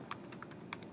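A web address is typed on a computer keyboard in a quick run of soft, close key clicks lasting about a second, faint and without talking.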